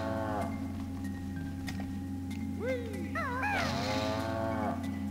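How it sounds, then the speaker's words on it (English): A cow moos twice in wavering, drawn-out calls from the video game Banjo-Kazooie over a steady low electronic hum, with a faint ticking in the background. "you hear the cow sound in the background."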